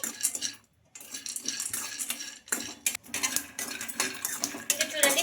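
Peanuts frying in a kadai while a metal spoon stirs and scrapes, making close, fairly quiet clinks and rattles in an uneven rhythm, with a brief pause early on.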